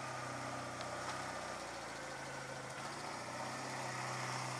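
A motorbike engine runs steadily at a low idle while the bike is wheeled up a plank ramp into a shelter, a close constant drone with a few faint knocks.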